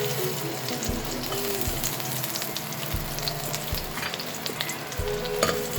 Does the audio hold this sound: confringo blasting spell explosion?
no